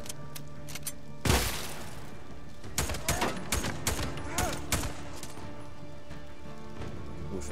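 Gunfire in a church in the video game Days Gone: a sharp first shot followed by a rapid string of loud, echoing shots and impacts, then quieter ambience.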